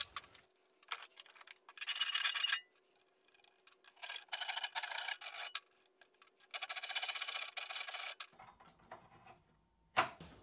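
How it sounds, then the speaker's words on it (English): Hand file rasping a switch hole into a metal heat treatment oven case, close and crisp, in three separate bursts of rapid back-and-forth strokes with quiet gaps and light clicks between. "I'm gonna finish it off by filing the rest of it away."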